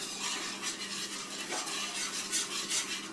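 A whisk scraping and stirring homemade bacon gravy in a pan on the stove, a steady close swishing with faint metallic taps and a soft sizzle beneath, no voices.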